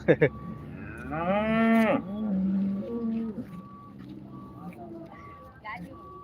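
Cattle at the Chintamani cattle market moo loudly and close, one long drawn-out call standing out amid a steady electronic tone and general market noise, with brief short calls at the start.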